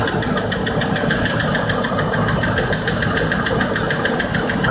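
A rebuilt Land Rover Discovery 4.0L engine runs at a steady idle nearby, loud and even, with a fast regular ticking tap over the drone, consistent with a collapsed lifter. No one speaks.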